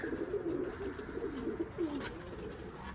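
Pigeons coo softly and repeatedly inside an office-yard coop, a low burbling murmur that rolls on continuously at close range with faint background hiss and no talking.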